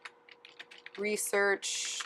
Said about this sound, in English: you can either go to Google and type in Open Site Explorer